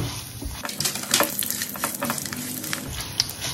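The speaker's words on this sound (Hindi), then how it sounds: "काजू का हल्का कलर चेंज होने तक हमें इसे सेकना है। अब हम इसमें साबुत लाल मिर्ची डालेंगे" Whole dried red chillies going into cashews frying in hot oil in a pan, a steady close sizzle with scattered crackles and a stirring scrape.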